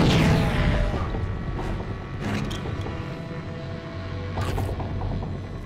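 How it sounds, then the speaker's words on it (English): A grenade explodes in the first-person shooter Rage, with a broad rumbling blast and debris amid ongoing gunfire and mechanical battle noise, fairly loud and sustained across the whole stretch. "Oh, grenade."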